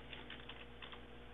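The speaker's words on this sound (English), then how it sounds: "So what we're going to do is type in" Close keystrokes on a computer keyboard tap out a short entry over a steady electrical hum.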